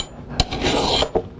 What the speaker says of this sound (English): Just lay the axe overhanging on the edge of a table, stroke into the cutting edge